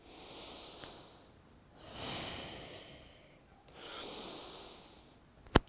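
Slow, deep breaths during a hip-warming yoga exercise, three long airy inhale-exhale swells heard up close and alone, with a brief sharp click at the very end.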